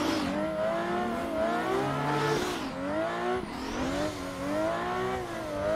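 Racing car in the Assetto Corsa sim game drifting, its engine revving up and down in sweeping pitch swells with tire squeal layered over the steady, loud drone, alone without talk.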